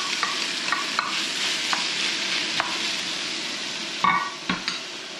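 Broccoli greens hit a pan of dissolved anchovy sauce and fry with a steady, close sizzle, broken by a few sharp clinks and stirring scrapes near the end, with no voices.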